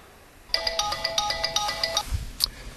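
A phone's electronic ringtone plays during a call, with a repeating bright melodic pattern of quick notes for about a second and a half, then a brief pause and a single last chime, fairly close and clear.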